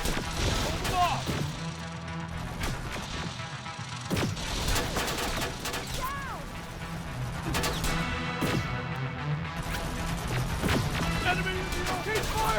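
Rapid bursts of gunfire and crashing impacts in the video game Terminator Resistance, a dense loud firefight with shouted in-game voices over the shooting.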